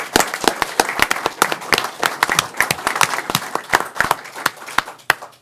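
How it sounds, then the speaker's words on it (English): A round of applause at a village board of trustees meeting honouring police and fire first responders: dense, sharp individual claps from a modest crowd, steady for about five seconds, close and fairly loud with no talk over it. "a round of applause for our first responders"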